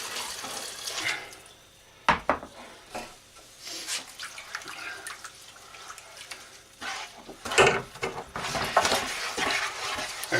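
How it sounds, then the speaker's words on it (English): Water poured into a pan of thickening brown lamb and mint gravy, splashing and sizzling in bursts with several sharp louder pours, alongside stirring and light clatter, with no voices over it. "so we're going to add more water"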